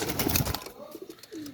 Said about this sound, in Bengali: সরাসরি ইম্পোর্ট ব্লাড লাইনের কবুতর।